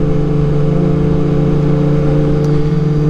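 Sport motorcycle engines, a Kawasaki ZX-10R and a Yamaha R6, hum close and loud on a city ride. The drone stays steady and fairly moderate rather than sharply revved.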